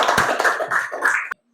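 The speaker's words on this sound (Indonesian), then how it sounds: "kita beri tepuk tangan untuk kelompok bola dulu" A classroom group claps briefly after a presentation, a quick patter of close hand claps lasting just over a second before stopping abruptly.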